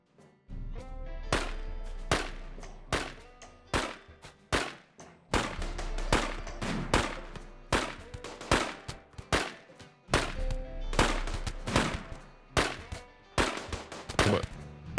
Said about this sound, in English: of course they have mortars